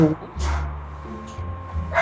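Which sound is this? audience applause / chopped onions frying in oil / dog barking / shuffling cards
dog barking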